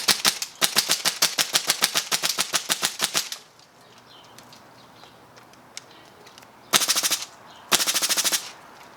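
An HPA airsoft gun shooting at about 2 bar of air pressure fires a rapid full-auto string of sharp cracks, then goes quiet before two short bursts follow, loud and close with no talk.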